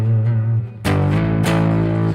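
An electric guitar plays through a virtual amp with the gain turned up to about 6 or 7, giving a distorted tone. One sustained chord rings, then two more struck chords follow and sustain loudly, with no talk.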